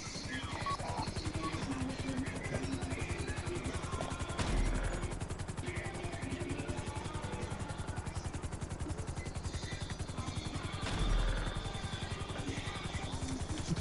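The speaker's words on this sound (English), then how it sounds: "Bring the chopper down." Helicopter in the GTA Online video game, a steady rotor chop pulsing throughout at moderate level, with a couple of brief louder bursts and no clear speech over it.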